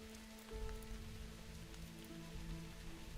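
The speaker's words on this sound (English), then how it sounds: "It's raining." Steady rainfall in the World of Warcraft game world, a soft continuous patter of drops on surfaces, quiet and even throughout with no talking.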